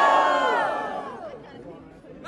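A loud crowd at a rap battle semifinal roars and cheers all at once, the shouting swelling at first and then fading away.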